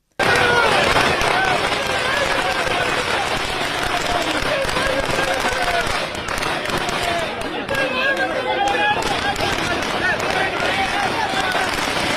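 Firecrackers bursting at a crowded party-headquarters celebration of an election victory, a dense crackling and popping that runs continuously under excited crowd chatter and voices, loud and close.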